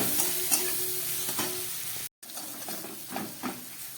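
Onion-based fish masala with cumin powder and turmeric fries in a pan for a fish curry, a steady low sizzle with soft stirring scrapes that cuts out briefly midway, then resumes.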